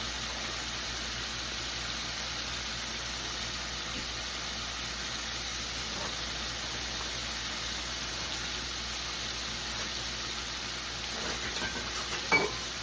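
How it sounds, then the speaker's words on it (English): Oyster mushrooms frying in oil with a steady, fairly quiet sizzle that runs unbroken, with a faint stir or clink near the end. "I'm gonna give it a little stir."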